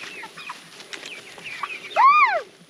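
Chickens on a farm cluck in short scattered calls, ending in a louder rising-and-falling squawk near the end, close by with no talking.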